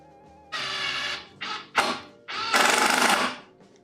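A power driver sinks screws into a wooden table saw stand in short whirring bursts: four spurts of motor noise, the last one longest, with quiet between them.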